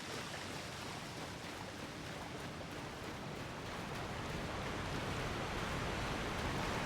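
A broad, steady rush of falling water from a waterfall in the video game Elden Ring, a continuous wash of noise that holds constant and grows slightly louder toward the end, with no voices.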